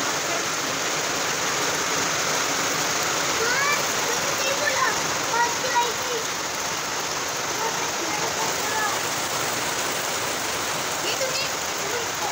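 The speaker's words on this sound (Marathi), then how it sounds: "बघा आता वाढला पाऊस बघा।" Heavy rain with large drops falling at dusk, a dense, loud, continuous roar of spattering water with no pause.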